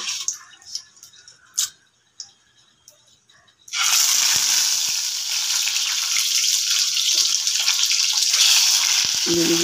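Eggs dropped into hot oil burst into a loud, steady sizzle that runs without a break after a few quiet kitchen clinks, close up.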